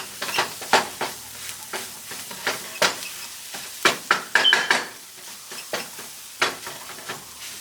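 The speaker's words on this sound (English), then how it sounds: "Cook this down, make sure the tomato paste is nice and sauteed." Tomato paste and spices for a lentil curry sautéing in a pot, with a soft sizzle under frequent sharp scraping and stirring clicks of a utensil against the pot.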